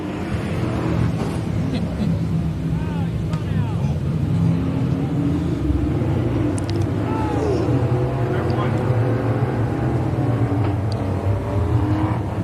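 Race cars roar together on the dirt oval at Kennedale Speedway Park, a dense, continuous engine drone with rising and falling revs as cars pass, while a commentator's voice talks over the racing.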